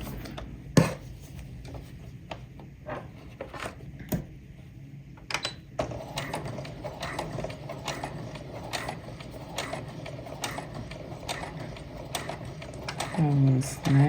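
A sewing machine stitches thick fabric for an apron in quick rhythmic mechanical bursts, the needle and gears rattling close by, with a few louder knocks and a brief pause near the start.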